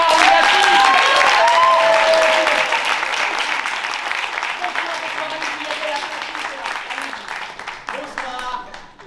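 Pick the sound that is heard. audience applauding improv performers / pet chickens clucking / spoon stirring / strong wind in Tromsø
audience applauding improv performers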